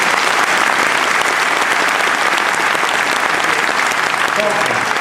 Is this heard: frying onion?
no